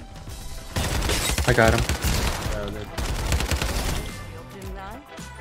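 Rapid gunfire in the battle game Farlight 84 rattles in close bursts, with sharp repeated shots and impacts as a player speaks briefly over the shooting.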